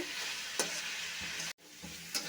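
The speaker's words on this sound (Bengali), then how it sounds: "ভালো করে মিশিয়ে একটু ভাজা ভাজা করে নেব" Drumstick vegetables with dried chilli powder, turmeric and tomato hiss and sizzle in a frying pan while being stirred, with a couple of crisp spatula scrapes and a brief drop in the sizzle midway.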